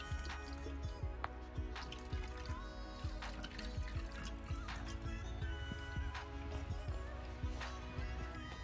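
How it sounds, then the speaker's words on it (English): Black tea trickles and drips slowly through a small funnel into a hair applicator bottle, a quiet, steady liquid dribble with soft irregular drips over low background hum. "I am going to pour this into my applicator bottle."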